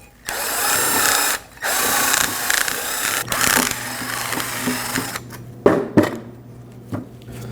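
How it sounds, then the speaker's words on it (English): A bore brush cleans out the rear brake caliper brackets of a 2015-2022 Chevrolet Colorado, giving close, loud whirring bursts with short pauses and a few sharp clanks toward the end. "I'm going to use a bore brush to clean out the brackets"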